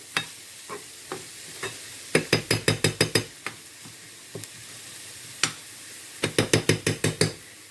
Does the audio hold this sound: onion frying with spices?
yes